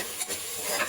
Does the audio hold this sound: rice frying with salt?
yes